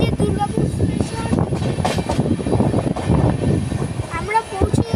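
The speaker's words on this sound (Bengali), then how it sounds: "এই যে আমাদের ট্রেন এবার দুর্গাপুর ঢুকছে" The Kumbha Express rolls into Durgapur station with a steady rumble of wheels and carriages heard from on board. A person talks over the noise throughout.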